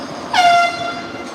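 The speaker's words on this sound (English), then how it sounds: "somebody just blasted an air horn out the window" A single loud air horn blast from a vehicle out on a city street rings sharply for about a third of a second, then fades into the background traffic hum.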